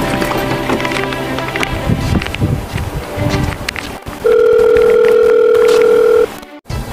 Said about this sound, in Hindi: किसका फोन बाज रहा है बे वैलेंटाइन डे में?